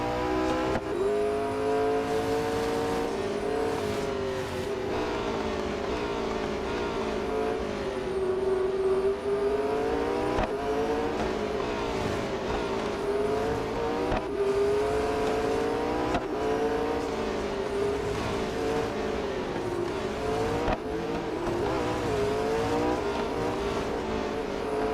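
A race car in Real Racing 3 roars continuously around the track, engine pitch rising and falling as it slides through corners, loud and close with steady tire noise.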